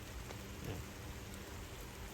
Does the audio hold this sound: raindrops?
yes